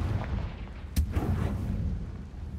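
Confringo fire spell in Hogwarts Legacy, a short boom with a sharp blast at its peak over a low rumbling background, fairly faint.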